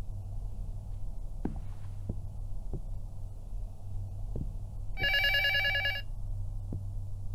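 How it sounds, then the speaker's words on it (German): A telephone rings once in a short, bright burst in the horror game Luto, standing out over a low steady hum and scattered soft thuds. "Telefon klingeln."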